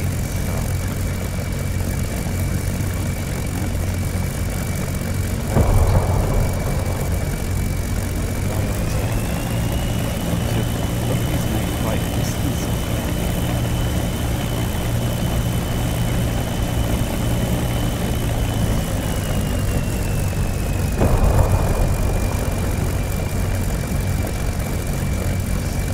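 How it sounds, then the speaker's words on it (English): A Messerschmitt Bf109 fighter's propeller engine idles while warming up in a DCS flight simulator on a cool early spring day, a steady mid-pitched drone with a rising whine and two brief louder bumps. "Gonna shut the radiator because we want the engine to warm up a bit"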